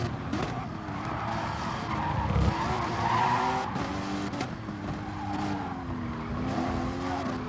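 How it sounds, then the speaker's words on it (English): Race cars in a GT championship racing game round at the Catalunya circuit, engines droning steadily with tire squeal and skidding under braking, continuous and fairly close with no voices. "See Dan closing up on the brakes there as he manages to keep it nice and clean"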